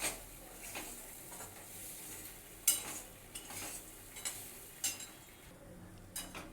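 Gram flour batter stirred in a hot kadai over low heat for motichur laddu, with faint frying sizzle and irregular scraping and clinking from the spoon against the pan.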